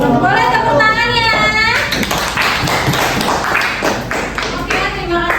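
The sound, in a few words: class applause after a student's poetry presentation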